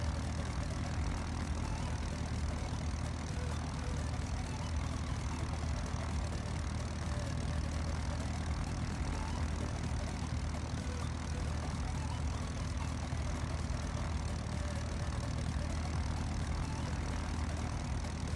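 A video-game airplane engine drones steadily while landing with full flaps, a constant propeller-like hum with no breaks or changes, alone with no talk.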